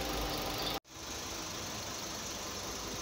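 A 2021 Renault Duster with a 1.6 engine idles, a steady close mechanical hum with a brief dropout near the start, then continuing evenly with no talk.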